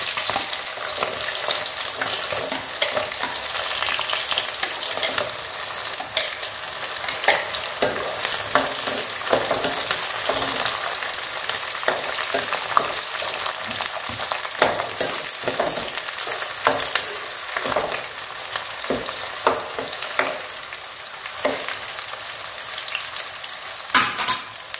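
Onions sautéing in a pan for a village-style fish curry: a loud, continuous close-up sizzle with frequent scraping and stirring clatter throughout.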